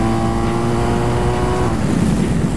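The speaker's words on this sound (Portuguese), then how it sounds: "Olha o tanto que essa moto vai bem" A BMW R 1250 GS Adventure 2021 motorcycle on the road, its boxer engine humming in a steady tonal drone with wind rush, the tone dropping away partway through and leaving broader road and wind noise.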